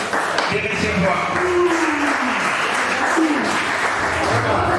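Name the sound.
audience applause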